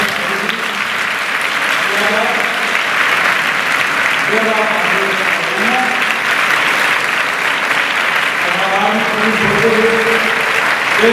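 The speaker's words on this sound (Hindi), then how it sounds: "जोरदार तालियों से" Loud, sustained applause fills a memorial tribute ceremony marking a revered mahant's death anniversary, holding steady for over ten seconds while a voice speaks over it.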